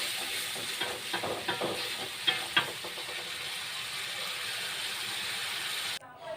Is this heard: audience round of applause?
no